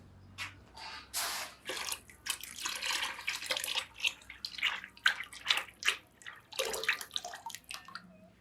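Ceramic glaze is poured out from inside a hollow clay ball, giving irregular splashy pouring and dripping with a few sharper drops, fairly quiet and close, with no voices.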